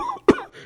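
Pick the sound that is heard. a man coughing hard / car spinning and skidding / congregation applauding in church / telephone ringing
a man coughing hard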